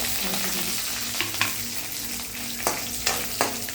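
Mint and about six or seven dried chillies sauté in a pan with a steady, close sizzle, broken by occasional sharp clicks of a spoon stirring against the pan.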